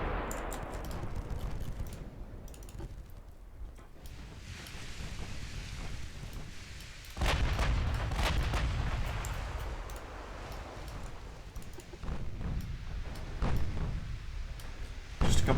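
Naval guns fire in Ultimate Admiral Dreadnoughts, heavy booms and rumbling blasts landing irregularly over a constant wind-like sea ambience, with several loud salvos in the second half.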